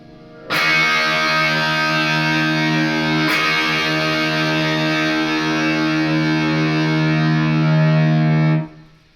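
A loud distorted electric guitar chord rings out, struck again a few seconds later, sustaining with heavy crunch before cutting off.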